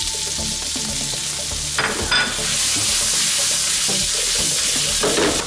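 Garlic and onion fry in olive oil with a loud, steady, close sizzle and crackle that runs unbroken throughout, with a few soft clinks of stirring.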